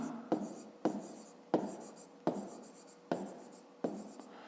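Pen strokes from a handwritten fifth-grade math solution scratching across paper in about seven short, close bursts, each with a sharp onset that fades, with no talking.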